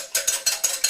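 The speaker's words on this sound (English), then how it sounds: "I'm going to set that off just a second while I whisk" Eggs being whisked with kosher salt for a French omelette, five quick, light, evenly spaced clinking strokes of a whisk against a bowl, close and fairly soft.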